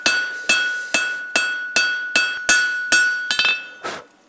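A blacksmith's hammer strikes hot steel on an anvil while forging a taper for a flat staple: about nine close, loud, ringing blows at a steady pace of roughly two per second, with no talk.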